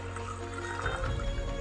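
Cola poured into a container during a magic trick, a steady liquid stream that deepens and thickens partway through, close and alone.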